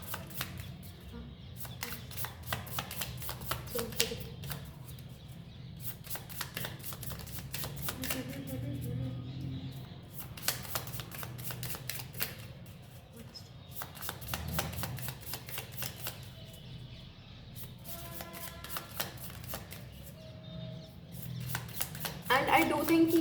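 Tarot cards shuffled by hand in quick riffling bursts, close and crisp, separated by brief pauses, with a low murmur underneath.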